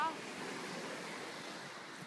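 Sea waves wash onto a soft, sandy shore on a southern French coast near Nice, giving a steady, moderately faint surf wash with some wind across the short stretch.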